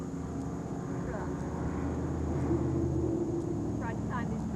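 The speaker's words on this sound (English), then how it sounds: "Try to time this truck." A truck rumbles past outside during an interview recording, a steady low engine drone that swells slightly midway and persists throughout, with faint voices in the background.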